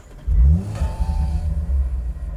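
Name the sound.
Audi RS 5 Sportback 2.9 twin turbo V6 engine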